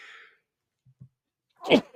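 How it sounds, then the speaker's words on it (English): A single sharp sneeze near the end, loud and close, after a quiet stretch with a faint high tone at the start. "a little sneeze on air"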